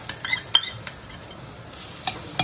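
A spoon stirs roasted poppy seeds in a pan before fresh coconut goes in, giving soft scraping and scattered sharp clinks of metal on the pan over a faint sizzle.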